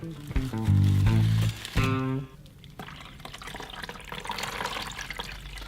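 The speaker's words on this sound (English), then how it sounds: "Basically I'm just going to keep pouring until all the dirt is gone." Liquid being poured through a Colombo Tecni filter to flush out dirt gurgles and glugs loudly from a bottle at first, then settles into a softer, steady trickling stream.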